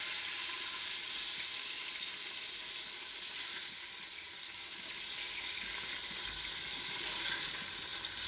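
Chicken curry tipped into a chicken biryani pot with bay leaves sizzles loudly in a steady, unbroken hiss that holds for the whole stretch, with no talking.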